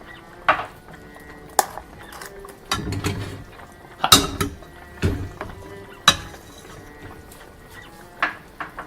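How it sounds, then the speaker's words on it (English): Cooked rice spooned into an empty Spam can, a series of sharp, close clicks and scrapes of a utensil against the metal can at irregular intervals, with soft patter between them. "I'm going to fill this can of Spam about half full of rice."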